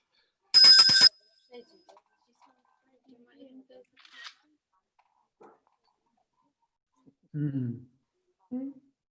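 A small hand bell rings once, sharp and bright, near the start, then fades into near silence broken by faint shuffling and a couple of brief spoken voices later on.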